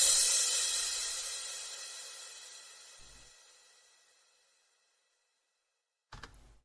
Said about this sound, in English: The crash is very basic and just sounds like this.